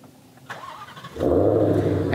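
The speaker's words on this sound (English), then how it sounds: "as you can see, the engine starts right up" A 2020 Ford Mustang Shelby GT500 engine starts by remote start. A click comes first, then the starter cranks and the engine catches into a loud, steady idle rumble. A voice is heard briefly.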